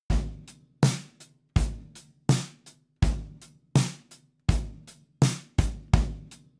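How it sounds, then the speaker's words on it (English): Drum loop of kick, hi-hat and snare playing a steady repeating pattern, punchy hits with short decaying tails and clear gaps between them, loud and alone with no talking. "so we've got kick, hat and snare happening there"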